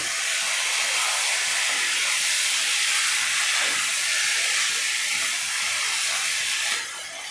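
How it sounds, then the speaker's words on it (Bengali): Baim eel fish frying with chopped tomato in a hot pan, a loud, steady sizzle and hiss that fills the whole stretch without pause, close up and alone with no talking. "এখন মাছ দিয়ে মাছগুলো ভালো করে কষাই নিব"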